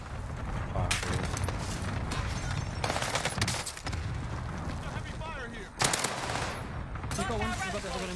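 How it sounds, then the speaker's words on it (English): Heavy gunfire in a video game tournament match, dense continuous bursts of rapid shots with loud cracks and some booms, running almost without pause, with players' voices faintly mixed in. "Oh, heavy fire"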